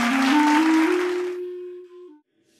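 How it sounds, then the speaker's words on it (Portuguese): Applause from a late-night talk show audience for a band, a loud wash of clapping with a sustained tone running through it. The clapping thins out and stops after about a second and a half, leaving the tone alone. "gostaria de receber uma grande salva de palmas para a incrível banda"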